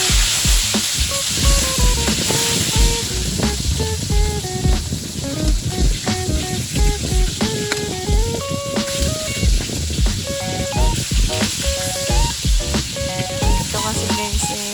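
Gulyasan fish frying in a pan, a loud steady sizzle with clinks and scrapes as it is turned over, running continuously and alone with no voices.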